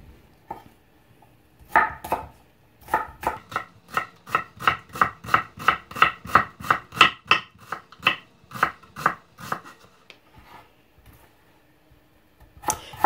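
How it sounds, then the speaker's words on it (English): A knife slices an onion finely on a cutting board: a quick, even run of crisp taps, close and clear, starting after a quiet pause and thinning out toward the end, with no talking. "Then slice the onion horizontally about 1/4 inch parallel cuts."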